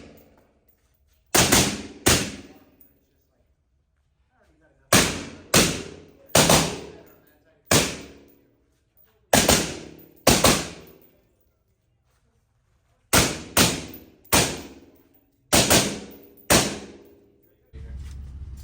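A Blackout Defense Quantum MK2 rifle fires .223 rounds at an indoor range, loud close shots in pairs and small strings separated by silent pauses.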